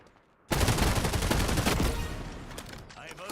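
Shotgun blast in a video game, a sudden loud burst followed by a dense crackling, rattling volley of gunfire that slowly fades over a few seconds, with faint clicks near the end.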